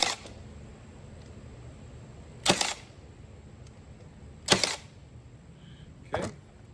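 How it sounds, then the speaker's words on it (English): Three sharp hammer blows ring out, each well apart, as nails are driven into the front of a small wooden bird house, with low room noise in the gaps. "I'm just gonna try to nail this up quick here."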